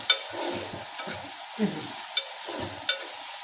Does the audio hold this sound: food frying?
yes